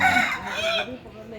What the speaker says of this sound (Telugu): కోడి పట్టుకో, కోడి పట్టుకో,